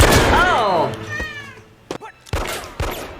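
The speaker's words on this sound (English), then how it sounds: "It's a kitten. Look at it, it's a kitten." Kitten meowing in a scene from the film American Psycho, a few short high mewing calls heard over a film soundtrack, with people talking and sharp knocks nearby.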